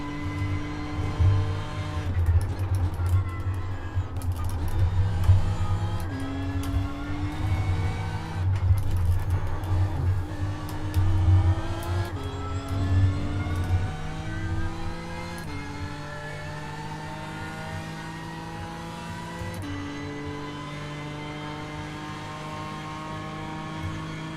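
A race car engine in a racing video game revs and shifts continuously, rising and falling through gears with a steady low drone and occasional tire squeal, loud and close, with no talking.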